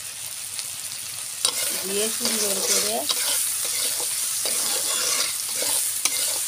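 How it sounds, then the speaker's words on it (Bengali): Prawns and onions hissing in a frying pan while being stirred, a constant close sizzle broken by spatula scrapes and taps, with a brief spoken phrase partway through. "সুন্দর করে চিংড়ি মাছটা পেঁয়াজের সাথে একটু ভাজা ভাজা করব"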